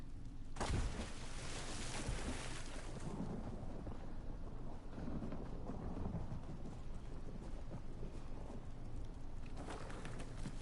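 Steady rain in the video game Elder Scrolls Online hisses throughout with a low rumble underneath, and a louder gust or thunder-like swell early on; no voices.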